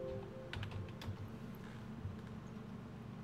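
Keys on a computer keyboard tapped in a few quick, scattered bursts, fairly quiet over a steady low room hum, with no voices.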